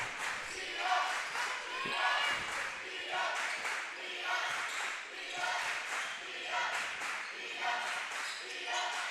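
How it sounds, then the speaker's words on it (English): A basketball crowd at a men's game chants "D up" in a steady, loud rhythmic beat, roughly one shout per second, filling the gym with massed voices. "The crowd is chanting, D up."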